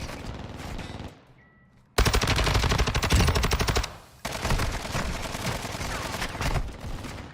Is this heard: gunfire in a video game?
yes